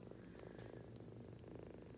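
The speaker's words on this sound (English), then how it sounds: "but he's purring" A small, sick kitten purrs softly in a continuous low rumbling rhythm, very quiet and close, with no other sounds.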